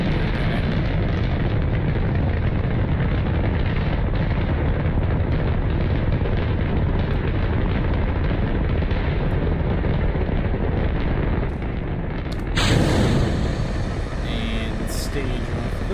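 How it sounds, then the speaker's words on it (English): A continuous loud roar of engines and explosions from rockets in the video game Kerbal Space Program, sustained and dense for most of the stretch before a sharp burst near the end. "Lots of things exploding, so that's probably fine."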